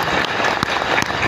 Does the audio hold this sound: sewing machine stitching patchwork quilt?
no